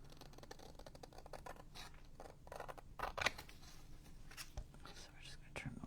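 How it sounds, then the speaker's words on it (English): Scissors trim paper for a junk journal craft project, giving a series of close, crisp snips and rustles, with soft whispered speech underneath. "So we're just going to trim it with the scissors."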